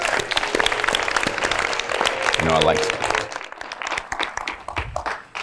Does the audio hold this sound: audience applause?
yes